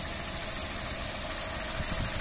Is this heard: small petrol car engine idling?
yes